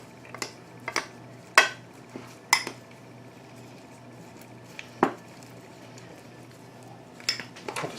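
Ground sausage, leftover pizza and chicken stuffing tossed together in a bowl for bacon-wrapped grilled chicken, giving soft squishing with sharp clinks of a utensil against the bowl at irregular intervals, close and fairly quiet.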